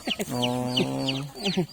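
A chicken living at a temple clucks in a few short close bursts and one drawn-out call, with other birds chirping faintly in the background.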